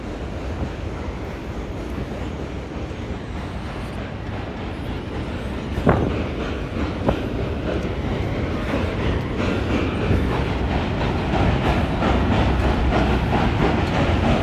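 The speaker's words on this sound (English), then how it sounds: "the trains are loud." Trains rumble past on a New York City bridge, continuous rhythmic clickety-clack of wheels, a sharp metallic clank midway, loud and sustained throughout.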